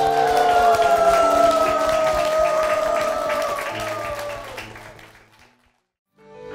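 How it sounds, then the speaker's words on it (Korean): Church congregation applause offered in worship, loud and sustained under a lingering sung melody, then fading out into silence before a faint rise at the end. "주님께 영광의 박수를"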